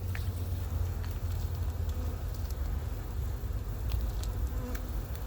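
Honey bees hum in a winter queen bank hive, a dense steady buzzing drone heard close up with faint scattered clicks over it and no speech.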